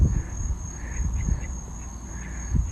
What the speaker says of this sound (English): There's my duck.